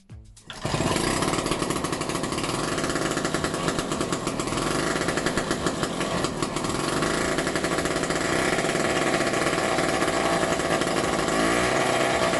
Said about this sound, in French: aujourd'hui, on a un moteur qui démarre.